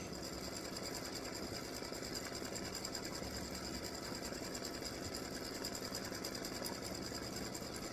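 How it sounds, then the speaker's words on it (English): An embroidery machine sews a satin stitch around the edge of a freestanding-lace hibiscus flower earring, a steady rapid mechanical whir and needle chatter running unbroken throughout at an even level. "So this is the start of the satin stitch around the edge."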